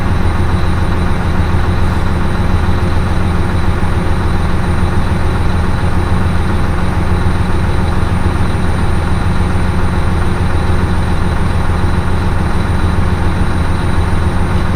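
A Mack semi truck diesel engine idles at around 820 RPM, a loud, steady low rumble with constant mechanical hum and a faint high whine, unbroken and close, with no talking.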